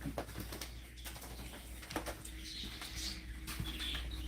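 Pet birds in an indoor cage chirp and rustle in scattered short bursts over a low steady room hum, fairly close, with no talking.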